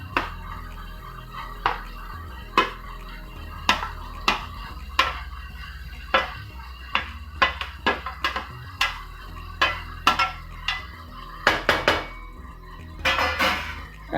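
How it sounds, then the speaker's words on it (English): Roasted brinjal being stirred into a spiced masala in a pan for baingan bharta, a steady series of sharp spoon knocks and scrapes against the pan at uneven intervals, close and fairly loud, with no talking. "And just mix this nicely so that the brinjal is can coat with all these spices."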